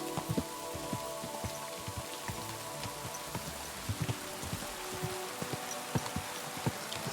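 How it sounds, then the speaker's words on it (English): Rain falling in the video game Kingdom Come Deliverance 2, a steady patter of scattered drops with soft taps and light splashes, fairly quiet and without talk. "Yeah, it's starting to rain."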